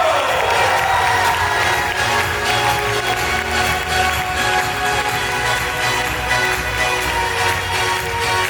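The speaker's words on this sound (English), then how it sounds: "everybody's gonna give you the biggest round of applause" A cocktail party audience bursts into loud, sustained applause mixed with cheering, whoops and shouts, a dense roar that holds steady for over eight seconds.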